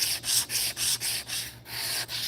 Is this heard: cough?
no